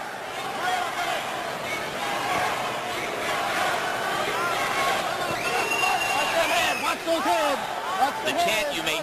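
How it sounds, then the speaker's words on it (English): Boxing arena crowd in East LA roaring and chanting at a 1994 fight, a broad sustained wash of massed voices with rising chant-like swells, under a commentator's speech. "The chant you may hear from time to time is East LA, East LA"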